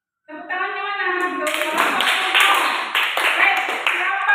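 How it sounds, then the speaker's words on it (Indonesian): Schoolchildren in a classroom clap their hands together in a lively, sustained round of applause, right after a brief voice at the start. "Tepuk tangannya mana?"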